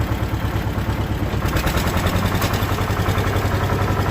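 A tractor pulling a loaded seed drill sets off across a field to sow, its diesel engine close and loud with a rapid, pulsing chug.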